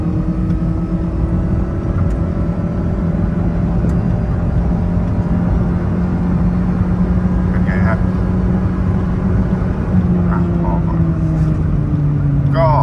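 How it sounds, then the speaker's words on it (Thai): A 2005 Honda Jazz GD with a VTEC engine and automatic gearbox, running on E20 fuel, accelerates from inside the cabin. A loud, steady engine drone rises gradually in pitch over several seconds. "มาเดี๋ยวมาดูอัตราเร่งกันหน่อยดีกว่านะฮะ"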